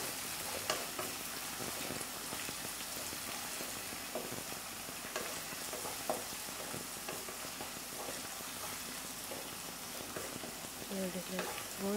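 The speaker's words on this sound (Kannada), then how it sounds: "ಇದನ್ನು ಕೂಡ ಚೆನ್ನಾಗಿ ವಾಸನೆ ಬರೋದ್ರಿಂದ ಚೆನ್ನಾಗಿ ಫ್ರೈ ಮಾಡ್ಕೊಳ್ಬೇಕು." Ginger garlic paste frying in a pan with onions, a steady close sizzle with scattered stirring scrapes throughout, voices speaking over it.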